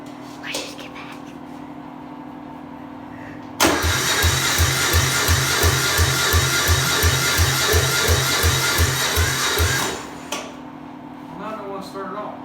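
A diesel junior dragster engine fails to cold start: after a quiet stretch, the starter cranks loudly in a steady rhythmic churn for about six seconds, then stops without catching, leaving faint background noise.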